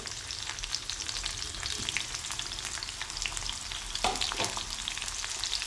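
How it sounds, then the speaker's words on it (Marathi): Green chilli, garlic and white sesame seeds fry in mustard oil with a steady, close sizzle and crackle, broken by a few stirring scrapes near the end. "मोहरीच्या तेलामध्ये चांगल्यापैकी परतून घेऊया"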